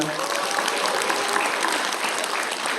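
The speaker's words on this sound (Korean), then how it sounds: "큰 박수와 함성까지 부탁드릴까요?" Sustained applause with some cheering from a seated audience at a Korean award ceremony for national audit activities, dense and steady throughout with a faint voice mixed in.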